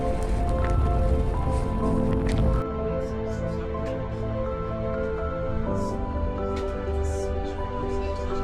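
Heavy rain coming down hard on a boat trip near Seward, Alaska, a dense hissing patter with drips, loud at first and then thinner and steadier, over a low continuous engine-like hum.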